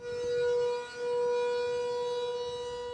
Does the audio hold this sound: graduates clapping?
no